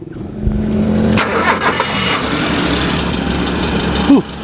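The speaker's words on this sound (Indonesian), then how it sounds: "Sekarang kita dengerin suaranya. Saya nyalain dulu mesinnya." A 2001 Suzuki Carry Futura 1.5 van starts up: a short cranking burst catches into a loud, steady idle, with a brief rev near the end.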